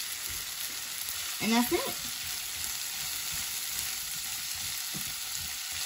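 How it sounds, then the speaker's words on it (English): Diced ham sautéing and crisping in a pan, a steady close sizzle throughout with a brief burst of stirring, while a voice speaks briefly. "we're just gonna saute this up until the ham gets a little bit of crispy"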